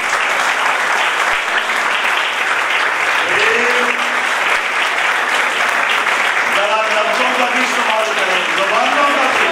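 Loud, continuous audience applause fills a church gathering during an Urdu sermon, dense clapping holding steady throughout, with a few voices calling out beneath it.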